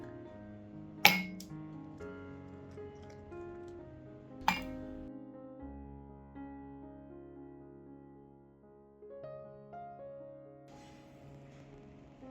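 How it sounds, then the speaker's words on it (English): Ice cubes dropped into a cup give two sharp glassy clinks a few seconds apart, heard over soft background music with no talking. "put 3 to 5 ice cubes into a cup like this"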